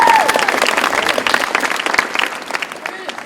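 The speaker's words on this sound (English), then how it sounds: "Let's clap it up for Chris Head." A crowd of campers at a Stephen Curry basketball camp clapping for a coach, a dense burst of applause that gradually thins and fades as hands slow.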